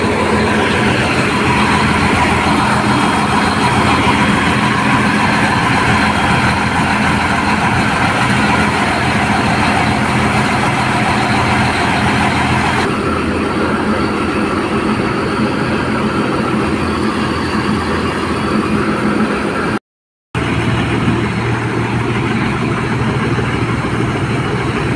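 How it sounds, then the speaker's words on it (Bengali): A large ferry engine running while the vessel is underway, a loud, steady mechanical drone and rumble heard close, unbroken apart from a short dropout near the end, with no talking. "দেখেন কত বড় ইঞ্জিন। চলুন চলন্ত অবস্থায় আপনাদেরকে ইঞ্জিনটা দেখাই।"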